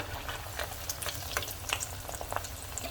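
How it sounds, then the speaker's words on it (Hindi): Arbi (taro) pieces frying in hot oil for a Sindhi arbi aloo tuk, a quiet steady crackle with scattered pops and occasional stirring, no voices. "इन्हें ऊपर से आगे पीछे करके फ्राई कर लें अच्छे से"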